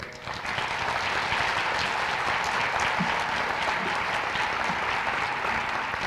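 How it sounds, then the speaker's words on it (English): An audience at a teacher-of-the-year awards ceremony applauds for an elementary school teacher, with dense, even clapping sustained for several seconds at moderate distance. "Please join us in applauding Amy Kunzler for being selected as Brookwood Elementary's Teacher of the Year."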